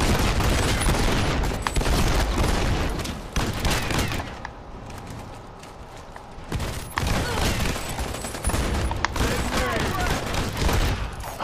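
Heavy gunfire fills a shootout in The Expendables 2 video game, with dense rapid bursts, a brief lull and then renewed firing, loud and close, while a player talks over the action.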